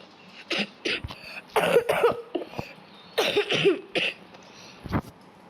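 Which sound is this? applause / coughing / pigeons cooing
coughing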